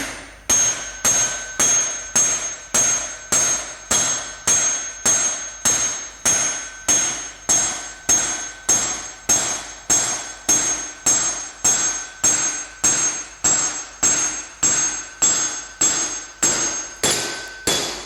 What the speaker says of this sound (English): So that we can gently tap the pulley down into place.